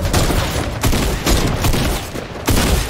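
Video game gunfire in dense, loud bursts, several rapid volleys of shots with short gaps between them, close and harsh.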